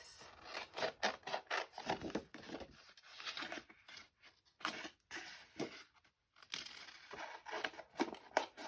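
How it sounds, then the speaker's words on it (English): Paper snips cut steadily around the edge of a decorated paper envelope, giving a close, continuous run of crisp snipping and slicing strokes with brief pauses as the paper is turned. "I'll use my paper snips to cut around the edge"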